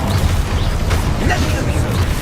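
Fire spell explosion from Confringo in Hogwarts Legacy, a dull booming blast set in a dense, steady wash of game noise, with a brief crackle partway through.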